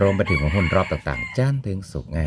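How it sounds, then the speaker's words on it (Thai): A rooster crows in the background at a rural countryside home, half-buried beneath someone talking steadily in the foreground. "วันนี้มีเสียงไก่ขันเป็นเอฟเฟกเบื้องหลังเนาะแบ็กกราวด์เอฟเฟก"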